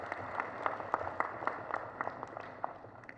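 Scattered audience clapping at an East African health and scientific conference, a thin, fairly faint patter of individual claps in an uneven rhythm, no talk over it.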